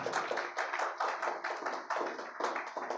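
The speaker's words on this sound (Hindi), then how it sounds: "जोरदार तालियां" Enthusiastic applause from an audience at an anti-drug awareness class in Delhi-NCR, a steady dense patter of many hands clapping with irregular surges, close and loud throughout.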